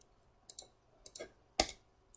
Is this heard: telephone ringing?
no